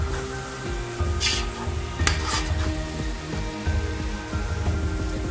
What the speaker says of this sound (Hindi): 2 मिनट के लिए अच्छी तरह इसकी बुनाई कर लेते हैं।